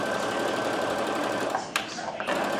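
A 2015 Brother LB6810 sewing and embroidery machine runs steadily, stitching with a smooth, continuous mechanical whir close by, with a brief click or knock near the end and no talking.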